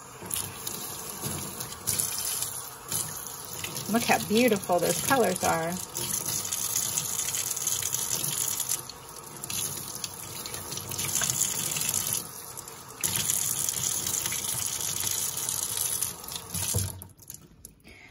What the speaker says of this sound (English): Okay, now let's rinse it with cold water.